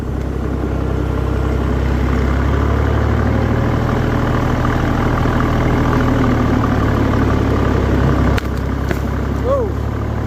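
A Massey Ferguson 40 backhoe engine idles in a steady, close low rumble that holds unchanged for the whole stretch, with a brief knock near the end.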